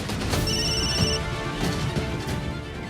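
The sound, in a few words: telephone ringing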